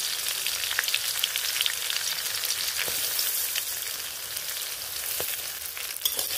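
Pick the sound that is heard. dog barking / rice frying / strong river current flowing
rice frying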